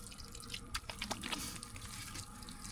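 A tap at a forest campsite runs with a faint trickle and a few distinct drips and splashes in the middle, quiet and close, with no talking heard.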